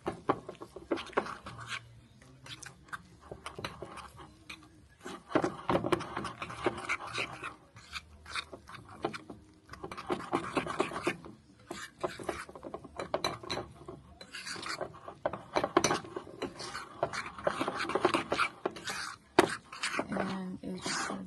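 A spoon scraping and mixing Southern potato salad with egg yolks in a bowl, producing irregular wet scrapes and knocks throughout, with a voice speaking over much of it.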